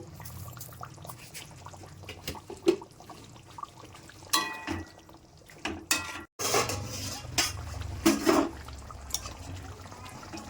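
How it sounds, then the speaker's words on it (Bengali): Pieces of katla fish cooked with orange are turned in a pan, giving intermittent metallic scrapes and clanks of a utensil against cookware over a soft bubbling background. "মাছগুলো নেড়ে নেব"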